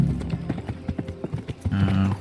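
Horse hooves clip-clop in the medieval game Kingdom Come: Deliverance, a quick run of close, crisp irregular strikes over a short stretch, heard alone without talk.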